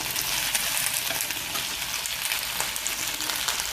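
Onions sautéing in a pan for okra sambar, a dense, constant close-up sizzle with soft crackles and faint stirring, steady throughout with no voices.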